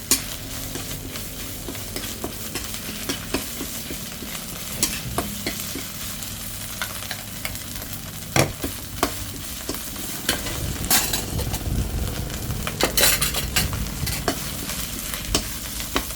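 Thai curry paste fries in a hot pan before stir-fried pork, a loud close sizzle and crackle broken by scraping spatula strokes and metallic taps, growing busier toward the end with no talking.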